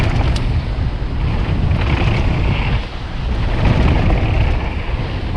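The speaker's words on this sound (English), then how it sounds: "it's a bit windy." Strong wind buffets the microphone on an outdoor downhill mountain bike course, a loud, continuous broadband roar that surges and eases without pause.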